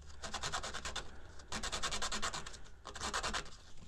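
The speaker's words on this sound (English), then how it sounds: "I'm going to just kind of chamfer the edge of the dowel a little bit" Sandpaper rubbed by hand around the edge of a wooden dowel to chamfer it, a fast rasping scratch in three steady bursts of short back-and-forth strokes, close and fairly loud with brief pauses between.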